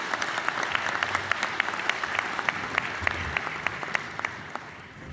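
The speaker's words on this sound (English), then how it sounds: "If you could give everybody a round of applause," Audience applause at an Indiana County Chamber of Commerce luncheon, a steady patter of many hands clapping from a seated crowd, fairly even in loudness for several seconds.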